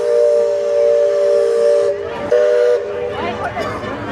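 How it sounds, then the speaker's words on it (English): The Liberty Bell steam whistle at Walt Disney World's Magic Kingdom sounds a sustained, loud two-tone blast that cuts off briefly and resumes, followed by crowd noise and a voice. "It certainly is a gorgeous day here at the Walt Disney World Resort with the Liberty Bell steam whistle."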